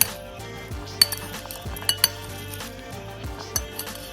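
Veg peanut salad being tossed in a bowl, with a spoon clinking and scraping against the dish in repeated strokes, sharp metallic taps standing out over a low background hum.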